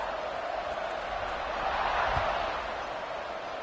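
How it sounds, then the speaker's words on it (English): A stadium crowd in the College Football 26 video game keeps up a steady, dense roar during a Clemson versus Ohio State matchup after a touchdown, swelling slightly midway through before settling back. "this crowd is buzzing after that last score"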